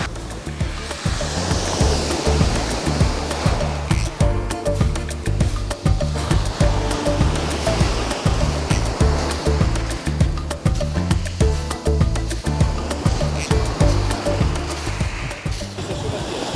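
Waves roll onto a beach on the Albanian coast, a loud, continuous rushing surf with repeated crashing surges and no talk.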